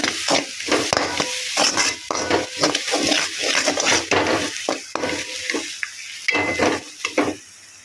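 Curry leaf pickle stirred and frying in a pan, a steady sizzle under repeated scraping strokes of a spoon against the metal, close and fairly loud with no talking.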